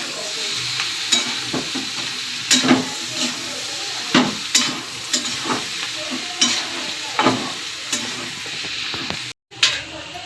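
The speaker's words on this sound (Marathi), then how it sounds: "नंतर आपल्याला हलवायचं" Chillies frying in a pan with salt while being stirred: steady sizzling hiss under repeated scraping strokes of the spoon, close and loud, with a brief cutout near the end.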